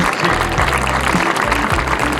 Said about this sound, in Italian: Facciamo un applauso globale a tutti quanti